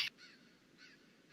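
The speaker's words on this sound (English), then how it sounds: "that was perfectly timed for the sound effect of the bird" A bird call sound effect in a tabletop role-playing session: a sharp squawk, then two faint, drawn-out cries over a quiet background.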